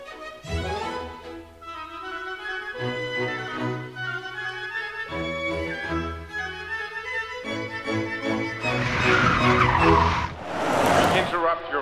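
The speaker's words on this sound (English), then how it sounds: "So let's check out how well this car handbrakes." A Peugeot hot hatch doing a handbrake turn on a disused airfield: engine revs climb over several gear-like steps, then loud tyre screech and skidding noise swells near the end, close and sustained.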